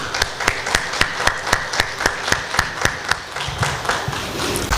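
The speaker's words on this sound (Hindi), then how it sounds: "मैं अपनी तरफ से एक जोरदार ताली आप लोगों के लिए लगाना चाहता हूँ" Loud, steady applause from an audience at a Patna event, a dense run of sharp claps lasting several seconds with no talk over it.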